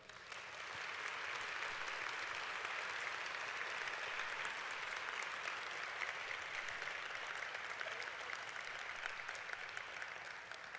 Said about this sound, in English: please join me in giving an enthusiastic round of applause to Wendy Keiver